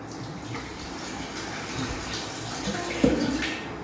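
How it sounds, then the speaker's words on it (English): Water poured from a container for homemade lime juice with cucumber, a steady close splashing stream lasting throughout with a brief sharper splash near the end. "Take some water."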